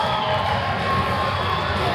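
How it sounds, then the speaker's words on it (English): Spectators at a live fight in Thailand cheer and shout in a continuous, loud wash of massed voices, with children's or higher-pitched shouts mixed in. "The crowd was cheering."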